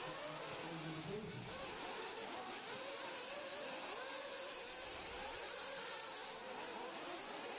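Nitro-powered RC cars race around an outdoor dirt track, a continuous high whirring and buzzing of small engines heard from some distance, steady and fairly faint.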